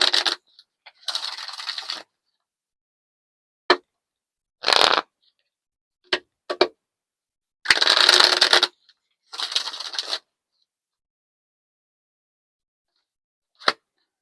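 Oracle cards are shuffled and drawn, giving short, crisp riffling and flicking bursts of paper scattered across quiet pauses, close and soft.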